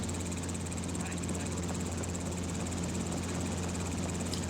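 An open-door helicopter flies over the San Diego coast on an aerial photography flight, its steady rotor and engine drone loud and unbroken from inside the cabin.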